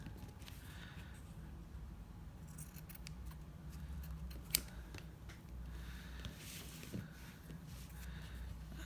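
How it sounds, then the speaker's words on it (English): Scissors snip away the excess from a glued paper piece in a journal craft, making quiet, close cutting and rustling sounds with a few sharper clicks over faint background noise. "And then I can trim off all of the excess."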